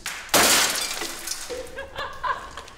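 A sheet of sugar glass, the hardened candy used in film and TV stunts, smashes with a sudden loud crash, followed by scattered tinkling fragments settling for a couple of seconds.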